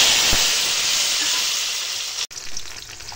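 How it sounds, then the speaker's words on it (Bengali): Taro stolons fry in oil left from frying fish, a loud, dense hissing sizzle that holds steady, then briefly cuts out near the end before resuming; no voices. "মাছ ভাজার তেলেই আমি ছড়াগুলো ভেজে নেব।"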